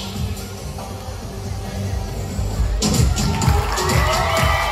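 Children and a crowd cheer and shout loudly during an energetic jumping game at an indoor play gathering, the noise swelling into a dense roar with thumps of jumping in the second half.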